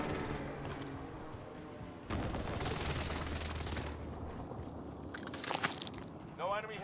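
Airstrike called in during a Warzone Caldera solo match, a dense roar of explosions and rapid gunfire rumbling continuously with a sharp burst partway through, while voice lines play over the barrage.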